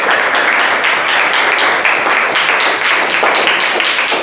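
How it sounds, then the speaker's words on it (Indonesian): Classroom audience claps together after a group presentation, a loud, close, steady patter of many hands throughout, with no talking. "Iya, tepuk tangan dulu."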